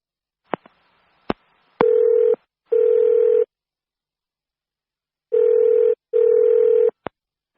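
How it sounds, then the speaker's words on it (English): Telephone call being placed: a few sharp keypad clicks, then four long electronic ringback tones in two pairs with gaps between, ending on a final click, with no voices. "Now listen to the telephone call"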